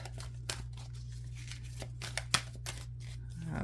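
Sharp riffling snaps of an oracle card deck being shuffled, a few quick bursts spaced over a few seconds against a low steady hum.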